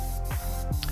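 An airbrush sprays Vallejo black paint as a base coat on a model ogre, with two short hissing bursts of spray, close and steady, and no talking.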